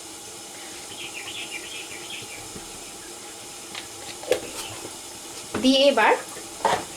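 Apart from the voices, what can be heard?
sautéing (kosha) egg curry masala in a pan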